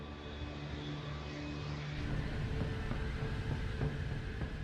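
Boeing 747 airliner of Japan Airlines taking off from Haneda and climbing, a steady broadband engine roar that swells slightly partway through, continuous and fairly close with no voices.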